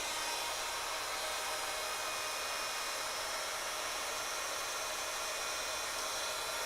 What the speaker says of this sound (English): So I'm going to heat up my embossing tool.